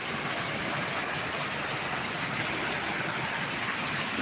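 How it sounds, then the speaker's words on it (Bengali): Heavy rain pours steadily onto a large motorcycle parking area, a dense, even hiss of falling water that stays constant and close throughout with no voices. "অনেক জোরে জোরে বৃষ্টি"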